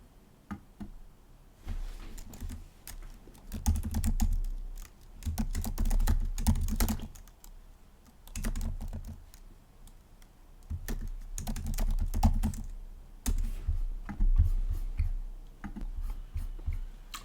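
Keystrokes on a computer keyboard as a file name is typed during a coding session, coming in quick bursts of close, crisp clicks separated by short pauses.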